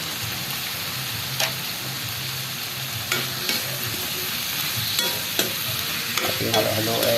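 Squash and tomato vegetables sautéed in a pan for ginisang gulay, stirred with a utensil over a steady close sizzle, with about half a dozen sharp scrapes and clinks at irregular intervals.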